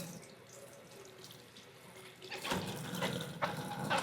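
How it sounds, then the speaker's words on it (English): Cabbage being washed with soap under a running kitchen tap; steady water flow in a sink, growing louder and splashier midway as hands work the head under the stream, no voices. "Just going to use a little bit of soap and wash this guy down."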